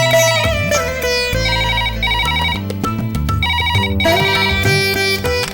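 A telephone rings in a Tamil television drama scene, its loud electronic ringtone melody playing steadily and close up, with no voices over it.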